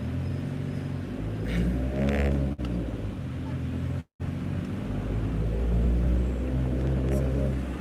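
A car drives along a road, heard from inside the cabin as a steady, loud low rumble of engine and road noise that briefly drops out twice.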